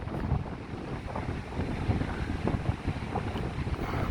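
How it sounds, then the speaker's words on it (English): Strong gusty wind on a rainy day in Blackpool roars continuously into the microphone, a heavy low rumble with buffeting surges. No one speaks. "Try to shelter from the wind, but it's"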